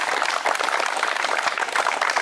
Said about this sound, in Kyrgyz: эрдиктер үчүн бир кол чаап коесак